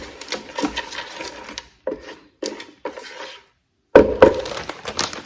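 Butter being stirred in a Ninja Speedi pot, with scraping, rubbing bursts of a utensil against the pot in uneven strokes, pausing briefly before a louder final stretch, close and with no talk.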